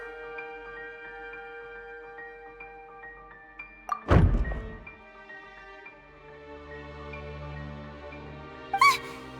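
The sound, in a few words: decoration knocked over, thud in video game Genshin Impact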